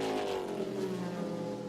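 An Audi and a Panoz sports prototype race past at Road America in the 2002 American Le Mans Series, a loud engine roar with steady, slowly falling pitch.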